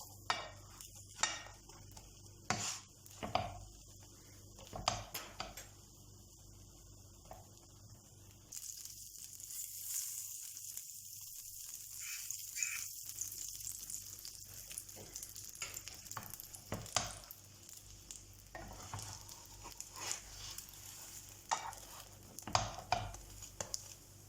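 Egg and sausage toast frying in a pan, a quiet steady sizzle with repeated clinks and scrapes of a utensil against the pan, close and soft.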